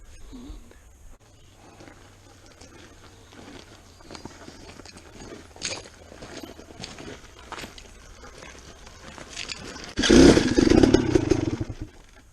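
A dirt bike climbs a very steep, loose forest hill in Mark Twain National Forest, its engine faint and distant at first and then surging to a loud, close revving burst near the end, with some scattered clatter.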